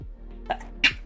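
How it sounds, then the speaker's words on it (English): A single short human sneeze, a small catch of breath followed by a sharp burst, fairly close in a quiet indoor room. "Ah, sneeze."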